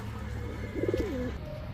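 Soft pigeon coo from a pair of red pigeons, a short bubbling burst of four quick notes followed by a drawn-out slurred tone, close and gentle over a low hum.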